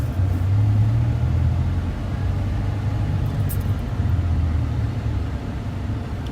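Manual car pulling away in first gear, with a steady, close low engine drone and rumble from inside the cabin and no talk over it.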